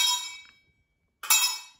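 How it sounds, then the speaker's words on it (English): A coin dropped in rings out with a bright bell-like clang, two metallic strikes with a quiet gap between, the second louder and sustained, heard alone without talk. "If you take the coin and drop it in"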